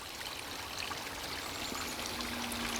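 Rainwater trickles and flows steadily through a back yard after rain, a faint, even hiss of running water with no voices.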